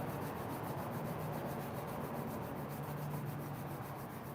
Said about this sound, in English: Rub the hands.